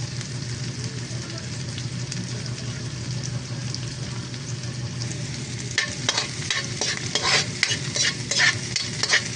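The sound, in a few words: sautéing ginger and onion in a pan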